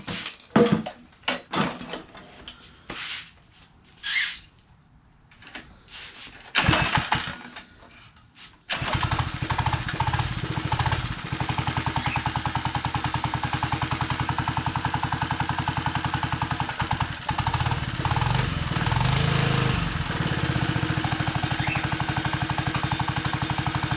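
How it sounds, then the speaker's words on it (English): A 79cc minibike engine is yanked on its pull cord several times with sputtering coughs, then catches and settles into a steady, loud, buzzing run that continues to the end. "ignition on, a little bit of pull"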